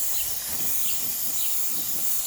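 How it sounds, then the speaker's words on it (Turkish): A spray gun laying paint on new Tofaş car bumper parts, a continuous loud airy hiss with slight pulsing, close and steady throughout. "Arkadaşlar başladık boyaya."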